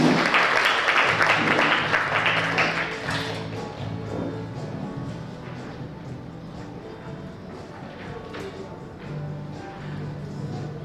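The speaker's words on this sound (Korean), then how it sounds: "큰 박수 모시겠습니다." Audience applause at a rural mountain-village revitalisation forum welcomes the third presenter: a dense burst of clapping for about three seconds, then fading into scattered taps and room murmur.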